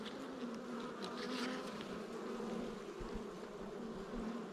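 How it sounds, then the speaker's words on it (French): A bee buzzes steadily and close by for several seconds, a continuous droning hum with slight wavering in pitch, heard alone without any voices. "Alors là, il a embarqué une abeille."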